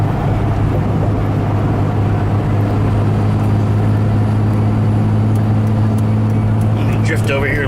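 Car cruising on a Tampa road and drifting over into another lane, with a constant low engine and tire hum and a steady drone under the cabin noise.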